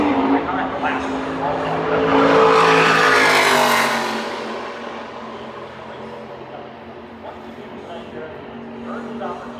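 Trucks from the NASCAR Craftsman Truck Series run qualifying laps at Phoenix, one roaring past close by as its engine note swells and then fades, with steady commentary running over the engine noise.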